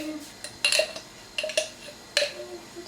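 A utensil mixing tahini (sesame paste) inside its jar gives three or four short clinking, scraping bursts at close range, spaced about half a second to a second apart, with no talking in between.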